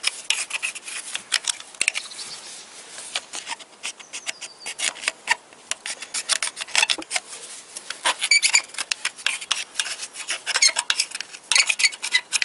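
Steady scratchy rubbing as old material is cleaned off a surface, a close, continuous rasping scrub in uneven strokes with no speech.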